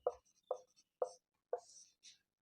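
Chalk or marker strokes on a classroom board during a lesson, about five short scratchy bursts spaced roughly half a second apart, close and fairly quiet with silence between them.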